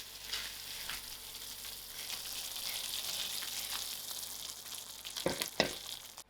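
Spinach sauce for palak paneer is stirred in a pan, sizzling steadily with soft scraping strokes and a couple of sharper clanks near the end.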